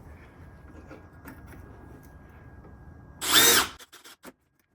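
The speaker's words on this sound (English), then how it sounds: "If he can grab the drill and then drill right through the holes right there." A power drill drives through pre-made holes in one loud, close burst of about half a second. It follows a quiet stretch of low background noise and ends with a few short clicks and taps.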